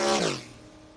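Mustang and Plymouth Duster 340 in a drag race, a loud engine roar sweeping past close by and falling in pitch, then fading to a steady distant drone.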